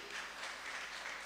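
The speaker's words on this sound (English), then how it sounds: "Let's clap for him" An audience at a university talk on ending gender-based sexual violence claps for a speaker, a faint, even patter of many hands heard from a distance.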